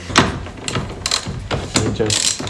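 A ratchet wrench turning the Torx screws that hold the airbag on the steering wheel of a JZX100, heard as several short bursts of close, loud clicking, separated by brief pauses.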